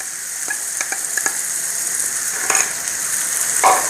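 Beaten egg poured into a hot pan for egg bhurji sizzles steadily and up close, with a few sharp crackles and small spatters over the continuous frying hiss.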